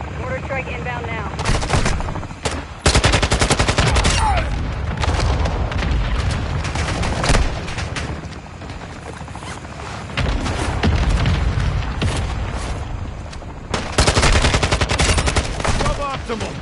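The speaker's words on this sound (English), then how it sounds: "Mortar support incoming! Copy. Mortar strike inbound now." Mortar strike and heavy gunfire in Call of Duty MW2 DMZ, with loud booming blasts and sustained automatic fire that ebbs and then returns in bursts across the stretch.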